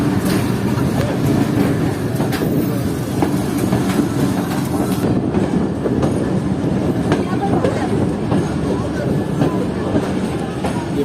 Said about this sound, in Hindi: और ट्रेन पहुँच रही है बसीरपुर रेलवे स्टेशन पर